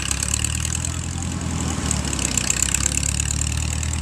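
A 1939 F-20 tractor engine idles steadily with a low, even rumble, close by and fairly loud throughout, with no talking over it.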